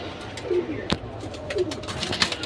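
Silver pankhi pigeons give two soft, spaced coos close by, with a sharp knock and faint rustling in a quiet room.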